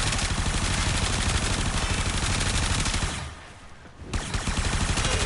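The Supra Vandal gun in Warframe fires in a loud, dense, rapid automatic burst that continues for several seconds, briefly drops off, then resumes at full intensity.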